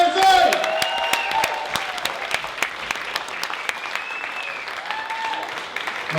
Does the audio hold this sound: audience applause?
yes